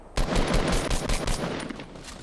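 Rapid automatic gunfire in the Fortnite Battle Royale video game, a dense string of loud, close shots lasting about two seconds before tapering off.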